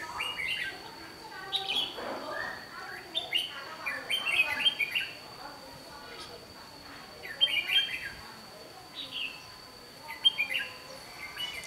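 A trapped wild bird in the Tây Hồ area chirps in quick bursts of bright tweets and calls, fairly close and lively, with short pauses between the phrases.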